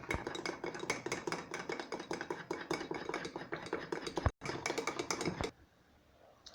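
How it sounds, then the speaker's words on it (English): A spoon stirs chocolate mug cake batter in a mug with quick, rhythmic clinks and scrapes, close and moderately loud, then stops abruptly near the end. "Mix well."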